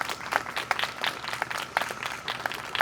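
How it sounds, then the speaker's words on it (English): An audience at a 5th grade school award ceremony claps steadily for a few seconds, a moderately loud rhythmic patter of many hands with no talking. "Big round of applause."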